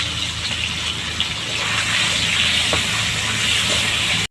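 Shing fish dropped into hot oil seasoned with turmeric sizzles with a steady, loud, broadband hiss that holds without a break throughout, with no talking.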